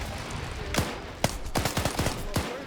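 Gunfire in the SCP video game during a squad operation, a series of sharp close shots, single cracks at first, then a quicker irregular burst over a low hum.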